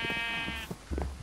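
Sheep bleating in Minecraft, a short wavering bleat at the start followed by quieter game noises, brief and fairly soft.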